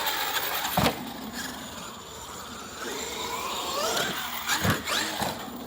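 A Traxxas X-Maxx RC truck with a PR Racing split center shaft running laps, its electric motor whining and rising and falling in pitch as it speeds around, with sharp tire scuffs and bumps.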